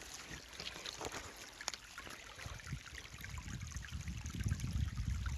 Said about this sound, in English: Look at this beautiful stream we found bushwhacking.